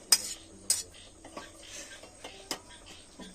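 Fried cashews and raisins tip into a pot of payesh, giving a few light metallic spoon clinks and scrapes against the pot, close and fairly quiet, with no talking.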